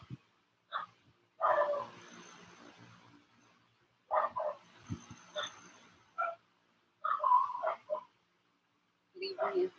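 Dogs bark and whimper in several short bursts separated by pauses, moderately close and fairly faint, with voices talking in between.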